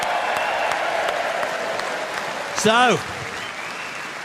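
A political party conference hall fills with sustained applause from a large crowd, steady and fairly loud throughout, while a voice speaks briefly near the end.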